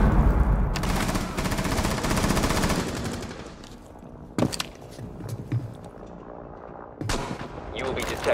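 Frag grenade thrown and detonating during a tactical shooter game round, with loud bursts of gunfire at the start, then sharp blasts and clatter near the middle and end over steady game ambience.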